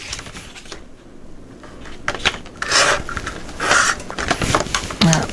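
Paper being cut with scissors for a dinosaur-themed mini album, several crisp rasping snips and rustles at close range between quieter handling sounds, no talking.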